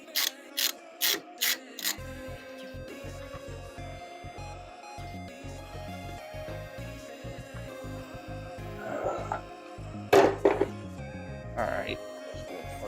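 A ratchet loosening the 13mm bolt holding the coolant reservoir on a 2015 Jeep Patriot, a few sharp clicks and then a long run of rapid, close pawl clicking, with a voice speaking at times.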